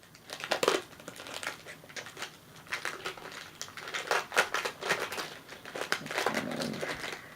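Foil wrappers of 1995 Ultra baseball card packs being peeled off cards they are stuck to, a close run of crinkling, crackling and tearing sounds in irregular bursts with no talk.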